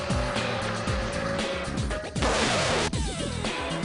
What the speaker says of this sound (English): what appears to be a little nudge from behind sends the 22 car flying off into the gravel and out of the race